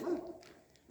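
A dog barks a couple of times up close, the sound fading off afterward, with no voices.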